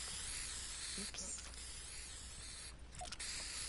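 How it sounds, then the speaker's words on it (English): A spray-paint can hisses in the video game Fortnite, with a steady, fairly faint broadband spray broken by two short gaps and a few small clicks. "why does it keep spraying over here?"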